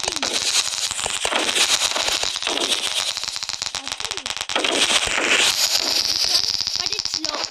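Fireworks exploding in the video game Fireworks Mania, a dense stream of crackling bursts and rapid popping that runs nearly nonstop at steady loudness, with a voice talking over it.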